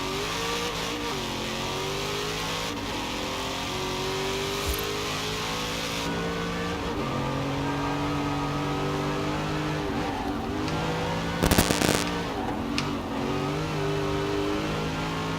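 A Camaro ZL1 1LE tuned past 1000 bhp revs and accelerates in Forza Horizon 4, its V8 climbing and dropping through repeated gear changes, loud and continuous with a brief burst of noise midway.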